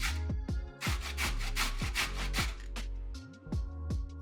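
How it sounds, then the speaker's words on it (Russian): A carrot is grated on a fine grater, a close, rhythmic series of scraping rasps in rapid strokes, steady and without speech. "Одну морковь трем на мелкой терке."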